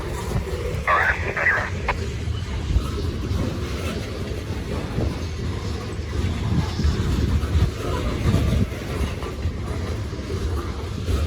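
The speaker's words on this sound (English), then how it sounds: "The whole train is hopper cars," A freight train made up entirely of covered hopper cars rolls past with a steady low rumble and faint wheel clatter, continuing for the whole stretch under occasional talk or radio chatter.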